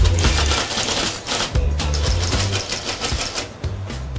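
Rapid clacking keystrokes from a vintage 1970s typewriter, struck in quick irregular bursts with occasional heavier thumps, loud and close with no voices over it.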